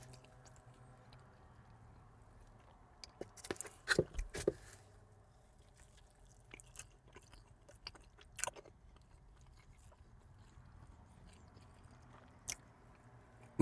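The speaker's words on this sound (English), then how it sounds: "Let me get a bite with this buffalo ranch." Biting and chewing a Little Caesar's Ultimate Cheesesteak pizza dipped in buffalo ranch, with a cluster of close crunchy bites around four seconds, then scattered softer chewing sounds over a quiet background.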